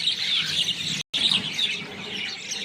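Mynas and other birds chirp in a dense, continuous chorus while being fed outdoors in Ramganj, Lakshmipur, with one brief silent gap midway and no voices.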